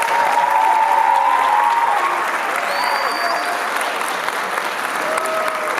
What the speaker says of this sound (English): give a round of applause to them as our three valedictorians one more time